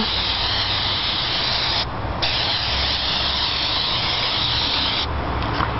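An aerosol can sprays onto a taped-up Cricut cutting mat outdoors in a long continuous hiss, pausing briefly twice before resuming, close and loud.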